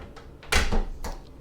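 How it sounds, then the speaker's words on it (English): A pocket door slides on a yacht, a brief rolling rumble followed by a softer second movement, close by and fairly quiet, with no talk over it. "Pocket doors everywhere again, saving space."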